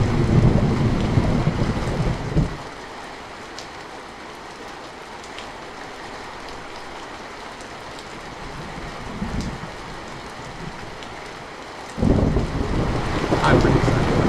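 Thunderstorm sound effect at a cruise ship's exotic drinks bar: a loud burst of broadband rumble opens, drops to a low steady hiss of rain-like noise, then surges back into a heavy roar near the end.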